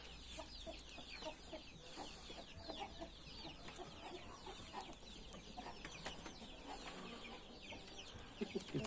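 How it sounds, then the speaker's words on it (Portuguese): A young rooster and several chickens cluck softly in a backyard flock, with steady overlapping clucks and chirps throughout, fairly faint and at a middle distance with no talk. "Esse aqui é o frango Sansão."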